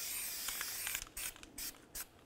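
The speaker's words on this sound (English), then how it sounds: "Now we're going to spray down the mating areas with some copper never sees." Copper never-seize sprayed from an aerosol can onto the mating areas of a rear wheel hub on a 1999-2013 Chevy Silverado during a wheel bearing job: three short, close hissing bursts after a quieter stretch of faint mechanical clicks.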